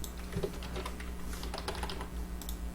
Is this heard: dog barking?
no